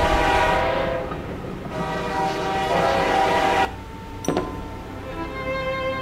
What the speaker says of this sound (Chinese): 那这样子要等另外一台火车过来